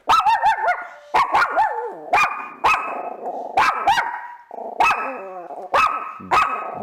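A dog barks repeatedly and loudly up close, sharp yappy barks in quick clusters with brief whining tones between them.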